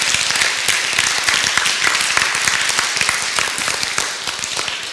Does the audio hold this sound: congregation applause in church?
yes